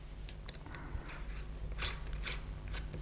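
A 3 mm hex key tightens the screw on a pressure-gauge mount of an air rifle, making faint, close metallic scrapes and small ratcheting clicks in short irregular bursts against a low background hum.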